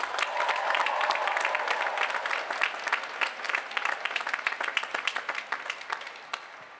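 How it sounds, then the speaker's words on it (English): Graduation ceremony crowd giving sustained applause, a dense wash of clapping that gradually thins into more distinct individual claps toward the end. "Please join me in giving them a huge round of applause."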